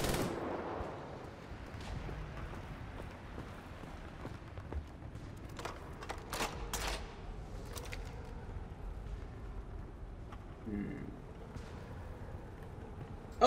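Gunfire from a mounted turret in the video game Wolfenstein: The New Order, a run of sharp bursts and shots over a steady game-ambience bed, with a cluster of louder cracks near the middle.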